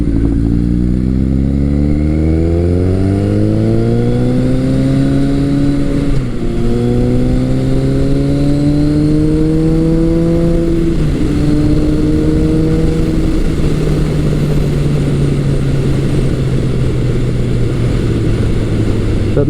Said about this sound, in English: This motor is a real gem. It pulls from idle to red line.